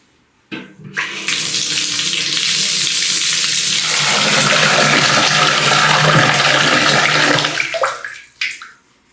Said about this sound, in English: Let's fill it up with water and see if it holds.